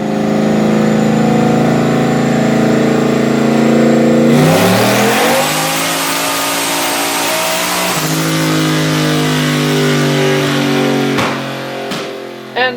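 A Nissan VK56 V8 fitted with a bigger turbo revs on a dyno, a loud sustained engine roar that climbs in pitch through the pull, holds high, then settles back toward idle near the end.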